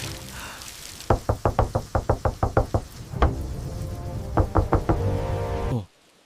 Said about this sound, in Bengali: বৃষ্টির মধ্যেই দরজায় কড়া নাড়ল এক অচেনা অতিথি